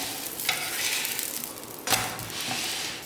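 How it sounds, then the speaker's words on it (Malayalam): Kerala-style layered parotta frying in a teaspoon of oil on a hot pan, giving a steady close sizzle with two sharper bursts as the flatbread is flipped or pressed. "ഈ സമയത്ത് നമുക്കിതിന് മുകളിലായിട്ട് ഏകദേശം 1 ടീസ്പൂണൊക്കെ എണ്ണ ഒഴിച്ചു കൊടുക്കണം കേട്ടോ"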